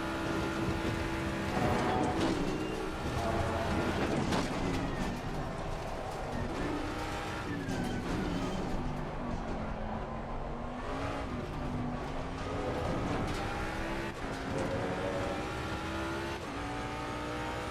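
Ford Mustang GT3 race car in Assetto Corsa Competizione, its engine droning and revving up and down through gear changes for a long continuous stretch, loud and steady with no talk.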